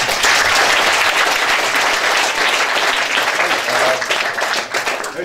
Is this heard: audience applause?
yes